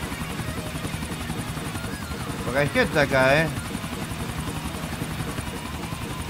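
A helicopter in the video game GTA IV hovers with a constant buzzing rotor drone, steady and close, while someone briefly speaks over it midway.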